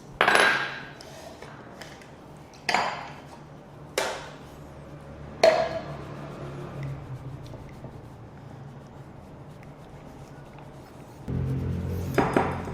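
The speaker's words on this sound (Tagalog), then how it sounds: "And then mix." A utensil mixes dissolved gelatin into a no-bake cheesecake batter in a bowl, making a few separate ringing clinks against the side with quiet stirring between them.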